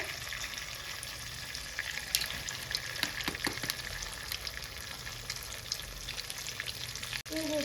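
Eggs with spices sizzle steadily in a hot pan, a constant close hiss punctuated by a few soft clicks and scrapes, with no talking.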